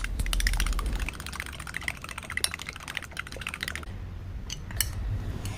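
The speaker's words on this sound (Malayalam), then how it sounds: "ഇനി ഇത് നന്നായിട്ട് മിക്സ് ചെയ്തെടുക്കാം." Two hen eggs whisked for an omelette, a rapid, steady clicking of a utensil against a bowl that runs close and fairly loud for several seconds with no voices, easing off briefly near the end.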